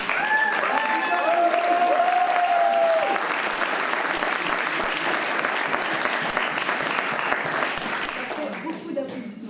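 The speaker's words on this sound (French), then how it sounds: "Beaucoup d'applaudissements." A theatre audience applauds at the close of a festival performance of "Yvonne, princesse de Bourgogne", sustained dense clapping that fills the room and slowly thins toward the end, with a few voices and whistles over it at the start.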